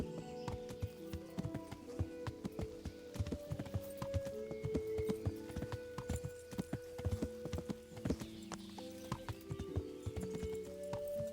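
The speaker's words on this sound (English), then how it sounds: "I did get a horse." Steady clip-clop of horse hooves trotting close by in Kingdom Come: Deliverance, rhythmic and continuous over a bed of game music tones.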